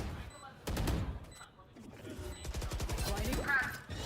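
Bursts of rapid gunfire in a Valorant match between T1 and DRX at Champions Tour 2025 Pacific Stage 1 crackle under excited commentary, with sharp clusters of shots and a few faint beeps.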